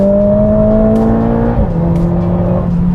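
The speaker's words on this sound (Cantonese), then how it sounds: "因為呢副 engine 咧，佢普通轉速嘅時候啲聲咧，真係唔係幾開胃嘅，但係高轉時候啲聲" A Mercedes-AMG A45S 4Matic+ four-cylinder engine howls at high revs on track, a loud sustained drone that dips in pitch at a gear change and climbs again, close and alone.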